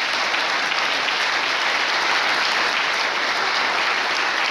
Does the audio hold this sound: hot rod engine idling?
no